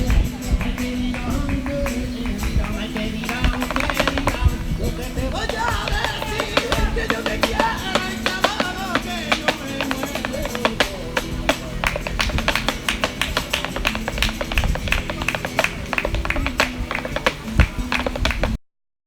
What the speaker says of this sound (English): Walking the city, we catch street flamenco in the heat at the edge of the park.